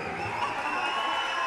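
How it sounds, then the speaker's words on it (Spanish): Crowd cheering and clapping for a woman introduced from the stage during a live show at the Jet Set Club, a steady roar of shouts and applause at moderate volume throughout. "Un aplauso para mi querida Yari."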